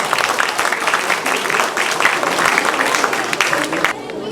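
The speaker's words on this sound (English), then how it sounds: "Huge round of applause to all the winners." A crowd at a Christmas carol competition applauds the prize winners with loud, sustained clapping from many hands, dense and continuous, cutting off abruptly near the end.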